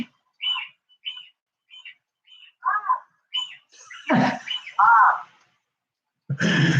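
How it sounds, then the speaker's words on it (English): A Senegal parrot gives a run of short chirps and squawks, then a couple of louder harsh screeches and a brief burst of noise at the end, close to the microphone. "That's why I have a Senegal. They're the quietest bird on the planet."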